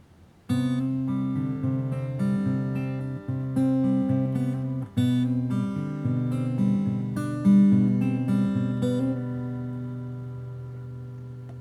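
A clean guitar picks the opening of a song, letting arpeggiated chords ring with steady phrasing that fades out near the end, played alone.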